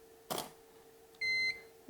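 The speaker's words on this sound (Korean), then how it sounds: "다시 발광됐을 때 삐 소리가 나는 부분에 대한 얘기예요" Beeping from a large studio strobe flash signalling it has recharged and is ready to fire: a short, clear electronic tone after a brief burst of noise from the unit firing, in a quiet room.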